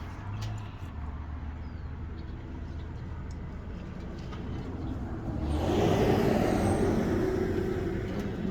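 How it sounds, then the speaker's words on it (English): Traffic on a residential street, a steady low road rumble with one car swelling past more loudly midway before fading, heard at a distance with no voices. "You're gonna hear cars passing by and everything."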